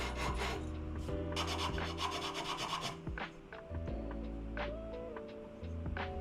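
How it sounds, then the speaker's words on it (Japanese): Sandpaper fixed to a square pipe rubs back and forth along the neck of an old vintage guitar under restoration, close rasping strokes in quick bursts, then a pause and a few slower, separate passes. "紙やすりを貼り付けた角パイプでまずは頂点の平面を出していきます。"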